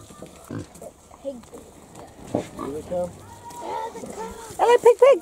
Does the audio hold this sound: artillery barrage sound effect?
no